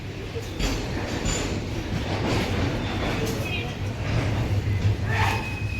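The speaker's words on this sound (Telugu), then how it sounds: "మన ట్రైన్ కూడా స్టార్ట్ అయిపోయింది ఎర్నాకులంకి" Train 16362 from Velankanni to Ernakulam gets under way and runs steadily, a close rumble of wheels on track with faint squeals, while voices talk over it.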